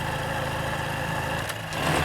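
A Honda Super Cub motorcycle engine hums steadily while riding, then dips briefly around a gear shift before the revs pick back up, mid-pitched and close without talk.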